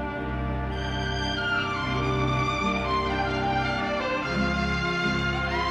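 A recorded sample of a song plays, a sustained tonal melody with steady low bass notes throughout, with no speech over it.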